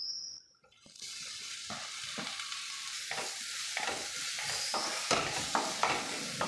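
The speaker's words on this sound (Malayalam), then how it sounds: "തക്കാളി ചേർത്ത ശേഷം നന്നായിട്ടൊന്ന് വഴറ്റി കൊടുക്കാം." Tomato being sautéed with onion and spices in a pan for a Kerala-style white chana curry, a loud steady sizzle with repeated scraping stirs after a brief pause at the start, close and without talk.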